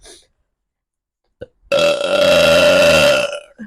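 A loud, close, drawn-out burp rumbles for about a second and a half during a mukbang eating session, preceded by a short smacking click.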